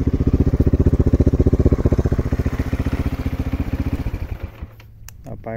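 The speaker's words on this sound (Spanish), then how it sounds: "la motocicleta nos prende bien, sin ningún inconveniente" A repaired Victory MRX 150 motorcycle engine idles nearby with a loud, fast, even putter for about four seconds, then cuts out abruptly, leaving a faint hum and a click.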